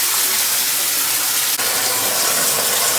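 Water gushes steadily into a 4000-gallon shark aquarium system, a loud, continuous broadband rush with one brief dip, close and unbroken by any voices.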